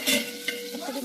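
Whole spices, cashews and raisins frying in hot oil while being stirred, a brief close-up sizzle with a soft scrape of the spoon, no voices.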